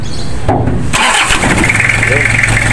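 A Toyota Revo's 2L diesel engine, left unstarted for a month, cranks after a short pause and catches, then runs on at a loud, rough idle close by, with voices over it.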